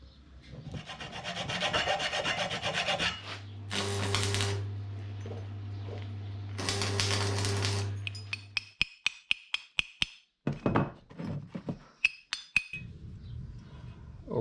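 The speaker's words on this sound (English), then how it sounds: "Just gonna file this cutout here just a little bit." A hand file rasps in long back-and-forth strokes across a cutout in a scrap-metal Danforth dinghy anchor, close and loud. A low hum runs beneath, followed by a run of sharp metallic clinks and taps.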